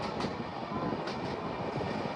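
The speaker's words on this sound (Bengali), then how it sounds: "মুরারো স্টেশন পার করছি আমরা" A passenger train rolls steadily past Murarai station in West Bengal, heard as a continuous broadband rumble and rattle of wheels and carriages, fairly loud and unbroken throughout, with no voices.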